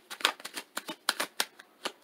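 Tarot cards being slide-shuffled in short rustling bursts, about a dozen quick riffles spaced irregularly, close and fairly quiet.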